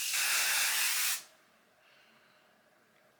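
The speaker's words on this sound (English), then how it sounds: "and then I will spray it." A short, loud burst of aerosol spray hisses for about a second, then cuts off, leaving quiet room tone with a faint click at the end.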